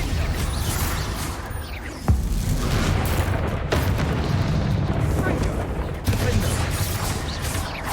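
Bombarda explosion spells in Hogwarts Legacy go off as several heavy booming blasts over a dense, rumbling battle din, loud and close.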